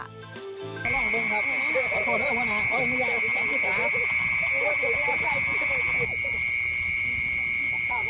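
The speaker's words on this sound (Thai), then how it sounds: "นี่คือเสียงแมลงชนิดหนึ่ง เรียกว่าแมงจีซอน หรือว่าแมงกระชอนนั่น เองครับ" A loud, steady high-pitched mole cricket trill blares continuously from a loudspeaker, with a tonal shift partway through, over dense background noise.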